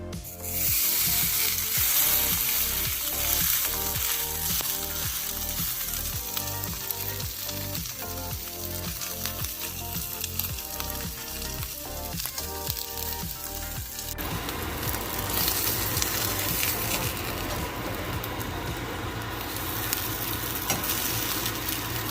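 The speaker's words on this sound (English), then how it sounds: "Let's see if I can brown this in the pan without letting it fall apart." A braised chuck roast browning in a hot pan sizzles loudly and steadily throughout, with rhythmic crackling pops in the first half that give way to a smoother, denser hiss.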